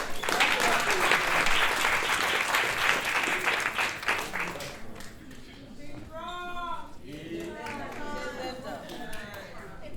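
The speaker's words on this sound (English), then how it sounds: "Clap it up. Clap it up for yourself." Audience at a comedy show applauds loudly, dense clapping that fades after a few seconds into crowd chatter and a voice talking over the room.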